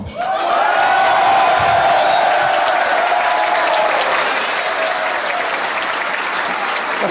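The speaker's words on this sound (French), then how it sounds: "Je vous demande de lui porter un tonnerre d'applaudissements." Loud, dense audience applause at a political speech in London fills the whole stretch, steady and sustained, with a few whoops and cheers rising above the clapping.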